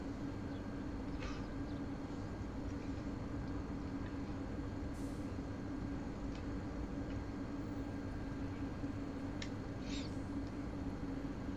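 Railjet train pulling away in Train Sim World 4 in Austria, heard from the control car: a quiet, steady low rumble and hum with a few faint metallic ticks and squeaks scattered over it.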